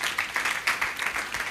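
A conference audience claps for an announced speaker, a brief burst of dense applause with a few louder individual claps standing out.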